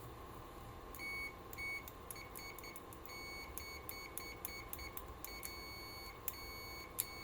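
Repeated short high beeps from a UNI-T UT123 pocket multimeter in continuity mode, chirping in quick irregular bursts as the test leads touch, fairly faint over a steady low background hum.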